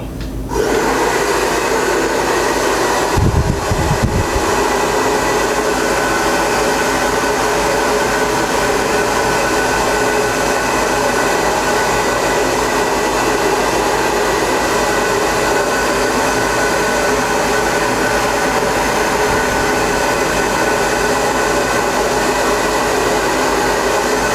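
A hair dryer blows steadily on hair during styling, a loud, constant close-up roar lasting throughout with a brief bump near the start.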